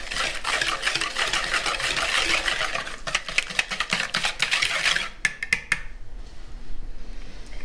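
Sugar gets mixed into cookie dough in a bowl with rapid, steady scraping and clinking of a utensil against the bowl. The strokes turn into a few sharper, separate taps near the end. The sound is close, and no one speaks.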